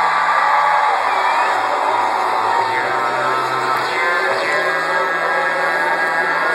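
A crowd at a live DJ show at Bingley, screaming and whooping in a loud, sustained roar that stays dense and continuous, with scattered yells rising above it.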